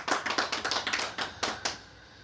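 Quick run of about a dozen light hand claps, fairly faint and close, in an uneven rhythm that trails off.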